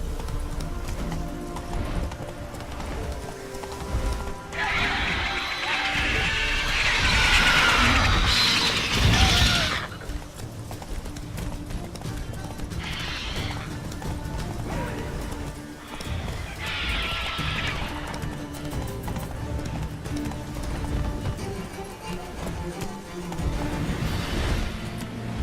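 Roach, Geralt's horse in The Witcher 3, gallops with a steady clip-clop of hooves and lets out loud, close neighs and whinnies in bursts over the rhythmic running, with game ambience behind.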